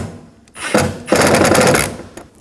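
Screws being tightened on the side mirror of a 2004-10 Toyota Sienna, heard as two loud, rattling mechanical bursts close by, the second longer, with quieter handling noise around them.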